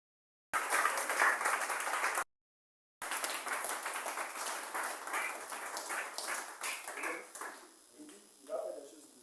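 A church congregation at a prayer vigil claps and cheers for Jesus in a dense burst of applause that breaks off briefly, then resumes and gradually thins toward the end.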